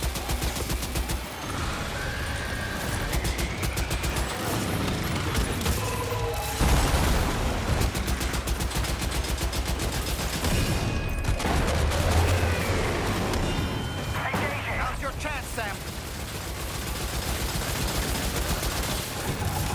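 Sustained gunfire in Death Stranding 2, dense rapid shots and bursts rattling almost continuously with occasional heavier booms, loud and close throughout.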